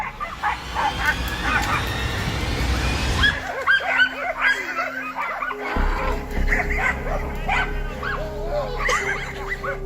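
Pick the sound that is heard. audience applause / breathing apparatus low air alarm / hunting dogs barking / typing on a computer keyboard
hunting dogs barking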